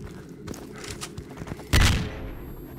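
A grenade blast in the video game STALKER: Call of Pripyat erupts as a single loud, close boom and fades over about a second, following quieter ambient game sounds and soft scattered clicks.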